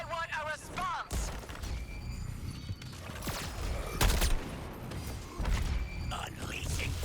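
A weapon barrage fires in a video game, a mix of thumps and gunfire-like bursts under a busy game soundtrack, with a voice talking during it.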